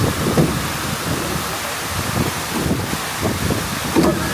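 Water from a waterfall pours onto a car in Beppu, Japan, a dense, steady roar of splashing and drumming on the body with low rumbling surges, loud and close throughout.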